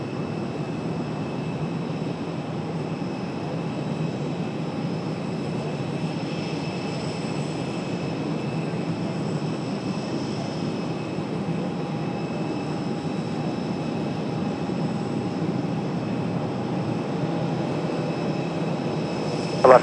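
Alaska Airlines jet departing Raleigh-Durham International, a steady broadband engine roar with faint tonal whine, constant and moderately distant throughout, no voices.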